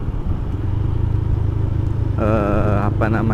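A classic big motorcycle's engine and exhaust rumble steadily while riding, with a nearby voice talking over the engine for much of the stretch.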